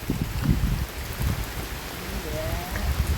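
Steady rain patters down continuously, a soft hiss with scattered drops, moderately close and with no one talking.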